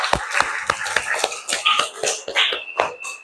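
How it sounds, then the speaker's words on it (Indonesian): Scattered hand claps in a classroom, a small group clapping unevenly in a quick, irregular patter for a few seconds, fairly close and without talk. "tepuk tangan"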